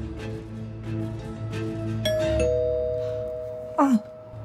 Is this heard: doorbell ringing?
yes